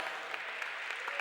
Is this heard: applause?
yes